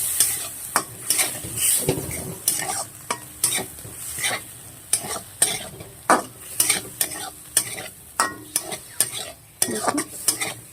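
Cucumber and potato curry being stirred in a frying pan after a little water is added, with rhythmic scraping strokes over a steady close sizzle throughout.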